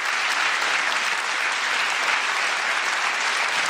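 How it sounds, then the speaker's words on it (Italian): Studio audience applauding for Trieste on an Italian television show, a dense, steady wash of clapping that stays loud and unbroken throughout with no voices on top. "Facciamo un grande applauso a Trieste"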